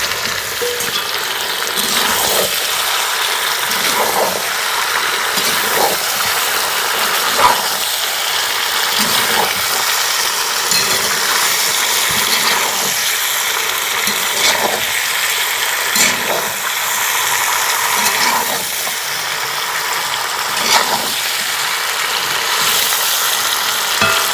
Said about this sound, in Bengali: আরও 3-4 মিনিট ক্যাপসিকাম আর ফুলকপিটা দিয়ে নাড়াচাড়া করে কষিয়ে নিয়েছি